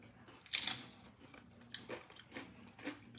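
A few close, quiet crunching bites and chews of peach salsa, with one sharper crunch followed by softer, irregular chewing sounds.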